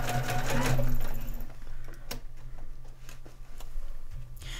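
A sewing machine stitches a dog bed in a quick, loud burst of rapid needle chatter that stops after about two seconds, followed by quieter handling clicks and taps nearby.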